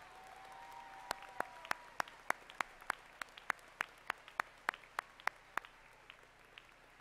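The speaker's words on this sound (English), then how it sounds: "Please, at this time, join me in applauding our FMS teachers and staff." Audience at a middle school moving-up ceremony applauding teachers and staff: a sparse, steady run of individual claps, roughly three per second and clearly separate, over a quiet room murmur, fading out near the end.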